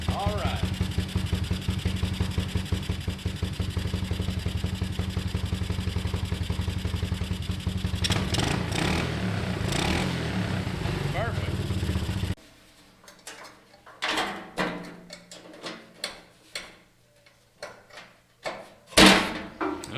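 A motorcycle engine idles steadily and fairly loudly for about twelve seconds, then cuts off, leaving scattered knocks and clunks with talking in between.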